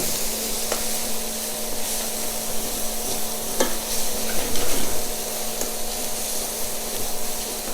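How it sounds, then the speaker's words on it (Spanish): Vegetables and leek searing in a pan, a continuous sizzle with the intermittent scrape and knock of a utensil stirring them, close and steady. "vamos sellando bien nuestros vegetales. Luego va nuestro puerro."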